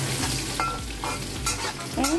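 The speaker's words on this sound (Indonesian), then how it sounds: "langsung aja kita tumis bawang merah, bawang putih, dan epinya" Shallots, garlic and dried shrimp stir-fried in a wok, giving a steady close sizzle with repeated scraping stirs of the spatula throughout.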